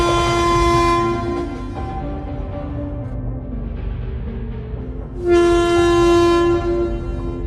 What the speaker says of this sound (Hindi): तभी अचानक ट्रेन रुक जाती है।